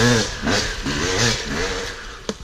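A Yamaha YZ 250 two-stroke dirt bike revs in the woods in several quick, buzzy bursts of throttle, near and loud, with a sharp knock at the end.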